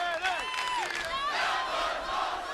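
A wrestling arena crowd cheers and roars in a brief sustained burst after a wrestler crashes through a table, distant and washed together, with a few voices rising above the din.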